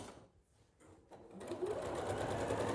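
A sewing machine stitches a pillow, starting with a few faint, hesitant pulses and then settling into a steady, close, continuous whirring hum.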